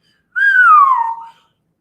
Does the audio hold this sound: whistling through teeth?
yes